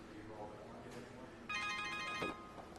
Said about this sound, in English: his silly ringing phone